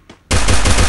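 Automatic gunfire from a USP pistol in the Free Fire battle royale mobile game: after a brief quiet moment, a loud, dense burst of rapid shots starts suddenly and continues steadily to the end, with no talking.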